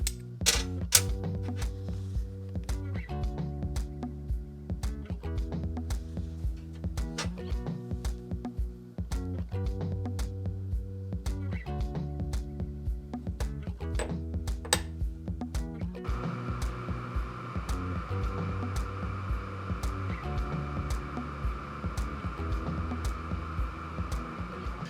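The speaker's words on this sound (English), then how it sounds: "you can actually mark stainless steel with this laser" Bambu H2D laser module marking stainless steel tags, a steady mechanical hum with rhythmic throbbing pulses from the moving head, changing to a brighter continuous whir partway through, with no talking.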